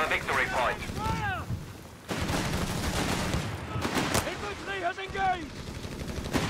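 Mortar and gunfire crackle through a Company of Heroes 3 battle, repeated booming shots over a busy wash of combat noise, with a caster talking over the action.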